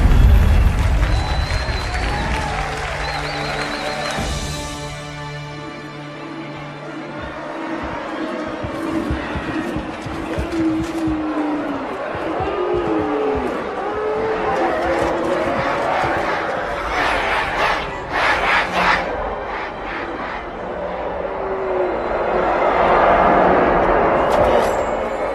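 A large crowd cheers and roars in a Halo 2 video game cutscene, a swelling, sustained mass of shouting with engine and vehicle noise and a speaking voice mixed in.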